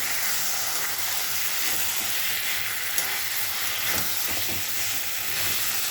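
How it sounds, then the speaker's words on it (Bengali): Water hits a hot pan of fish and potato curry, giving a loud, continuous sizzle and hiss with faint scraping of stirring, close by and steady throughout. "এবার জল দেবো"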